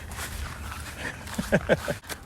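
A dog whimpers and whines in a few short, rising bursts near a garden compost pile, close and moderately loud over faint outdoor background noise.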